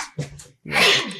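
A single close, loud sneeze indoors during a murder mystery game session, with a brief sharp inhale and pause before the forceful burst.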